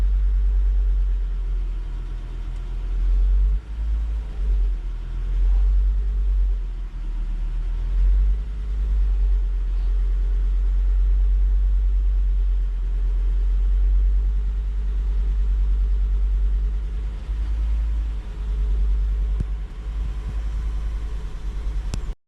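A Volvo S60/S80/V70 2.4 non-turbo petrol engine idles with a cylinder 1 and 2 misfire, giving a deep, uneven rumble with occasional stumbles and dips in the steady low drone.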